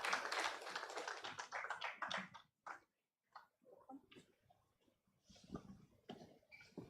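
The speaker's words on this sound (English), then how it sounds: "Please let's give him a round of applause" Audience applause as a speaker comes on stage, a loose patter of claps that thins into scattered taps and brief pauses before picking up again, fairly quiet and close, with no talking.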